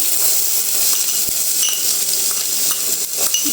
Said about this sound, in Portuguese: Vou deixar refogar um pouquinho aqui.